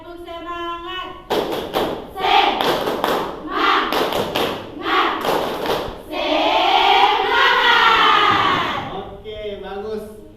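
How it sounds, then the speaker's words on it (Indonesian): A class performs the rhythmic 'tepuk semangat' spirit clap led by Hasna, bursts of loud unison clapping in patterned sequences alternating with group chanting and voices. "kita melakukan tepuk semangat, dipimpin oleh Hasna"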